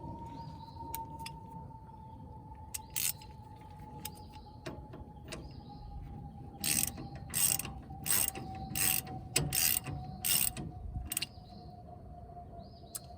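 A ratchet wrench on a Toyota's inner tie rod gives off scattered clicking and clattering, with a few quick runs of ratcheting clicks in the middle, close by over a faint steady hum.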